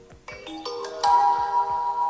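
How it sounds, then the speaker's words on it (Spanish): A phone push notification ringtone set off by pressing an ESP8266 wifi doorbell: a bright melodic series of chiming tones rising in pitch, played alone and clearly, with no talk. "Al pulsar el timbre recibiremos un enlace de apertura de un solo uso."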